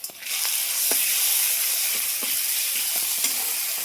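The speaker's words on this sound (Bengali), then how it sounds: "পেঁয়াজটা ভাজা হয়ে গেছে, এবার দিয়ে দেবো রসুন।" Garlic sizzles in a hot pan of already-fried onions, a steady bright frying hiss with a few soft clicks of stirring throughout.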